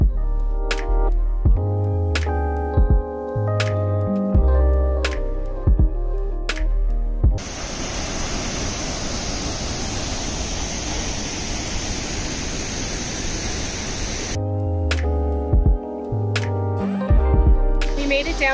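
Rio Celeste waterfall in a Costa Rica rainforest, a steady broadband rush of falling water heard close and loud for about seven seconds in the middle, set between stretches of music.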